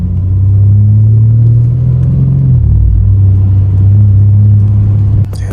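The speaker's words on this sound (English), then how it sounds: "So now I'm in M1 mode so you can hear the exhaust." BMW G82 M4 exhaust in M1 mode with the valve open, a loud, deep droning rumble while cruising, dipping briefly as the engine note shifts, then settling back to a steady low growl.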